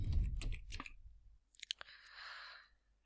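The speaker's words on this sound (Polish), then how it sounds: "Teraz wciskam klawisz Enter" A computer keyboard is typed on in a short burst of light clicks, followed after a pause by a few more clicks and a single firmer Enter key press, close and quiet.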